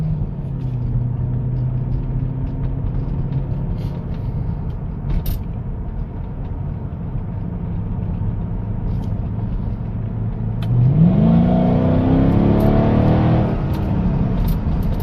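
Mercedes-Benz SLK55 AMG V8 engine droning steadily at low revs from inside the cabin, then a sharp throttle blip near the end sends the revs sweeping upward into a loud, rising roar.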